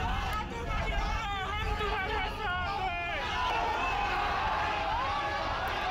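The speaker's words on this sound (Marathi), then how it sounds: "रुग्णालयाबाहेर कार्यकर्त्यांची मोठी गर्दी जमा झाली आहे" Crowd of party workers gathered outside a hospital, dense loud hubbub of many voices talking and calling out at once, continuous throughout.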